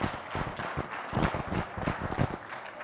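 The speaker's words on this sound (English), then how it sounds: "So big round of applause for them." Audience applause at an ophthalmology conference session is a brief, moderately loud burst of scattered hand claps that stays fairly even for a few seconds.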